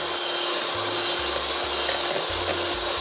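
An electric mixer whisks egg whites at high speed while sugar is added bit by bit, giving a loud, constant whirring drone that holds evenly throughout with no talking.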